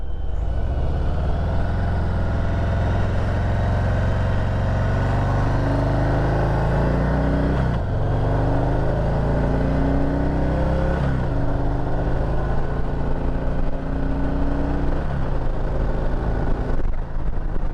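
A 2023 Harley-Davidson Heritage Classic motorcycle accelerating up to speed, a loud, continuous engine drone rising in pitch through repeated gear shifts, heard close with steady wind noise.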